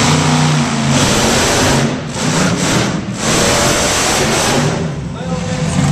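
Dodge Viper monster truck revving at an indoor arena show in Salem, Virginia: a loud, continuous engine roar that swells and dips, with voices mixed into the din.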